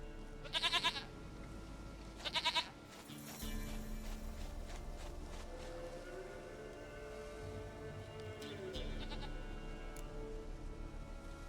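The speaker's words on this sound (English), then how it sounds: "Goat of mine, dearest, sweetest goat." Two loud, close goat bleats ring out in The Witcher 3: Wild Hunt, each a short quavering cry, followed by a low rumbling game ambience with no talk.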